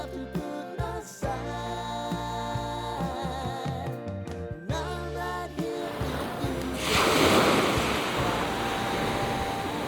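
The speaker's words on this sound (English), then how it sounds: "And, of course, the ocean." Ocean waves on the black volcanic sand coast of Amed, Bali, rising as a broad, rushing surf wash in the latter half after a stretch of music.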